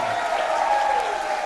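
Audience applause welcoming guests onto a televised interactive program, a steady wash of clapping from a crowd held at even loudness throughout, with no talking.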